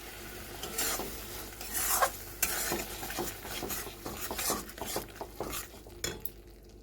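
Masala paneer spices and salt being sautéed in a pan, with steady scraping and stirring strokes, clinks of a utensil against the metal pan and a faint sizzle underneath throughout.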